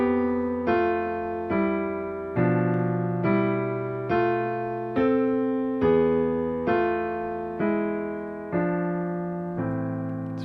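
A melody played in sixths, two voices moving together in parallel harmony on a sustained instrument, about a dozen evenly spaced chords, each struck and left to ring before the next, clear and alone.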